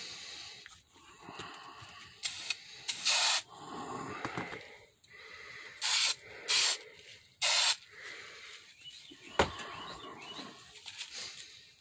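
Krylon Automotive Gray 2-in-1 filler primer sprayed from an aerosol can onto a model figure, with several short, close, hissing bursts separated by quiet pauses.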